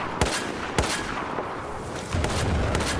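An XM25 Dart underbarrel shotgun fires in Battlefield 4: two sharp shots about half a second apart, then a quieter stretch and a low rumbling tail, with no talking.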